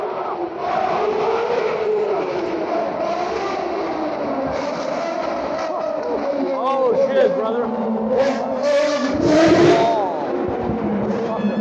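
A loud, roaring engine of Sebastian Vettel's 2012 Formula 1 car sweeps past, its pitch rising and falling under excited shouting and a cheering crowd.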